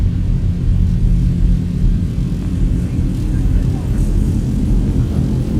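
Airliner jet engines spooled to takeoff thrust in the X-Plane 11 flight simulator on a Virgin flight out of Melbourne: a loud, steady, dense roar with heavy low rumble, holding constant throughout.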